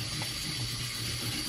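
Water runs and splashes steadily onto a whetstone as a knife blade is sharpened, a continuous close hiss and trickle with no talking.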